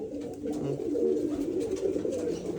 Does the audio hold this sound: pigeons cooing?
yes